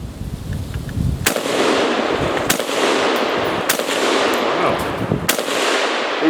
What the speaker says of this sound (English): and then I'm going to fire this gun